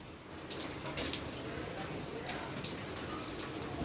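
Steady rain falling outdoors during the first rain of the season, with large drops, a soft continuous hiss at moderate level and a few brief louder patters.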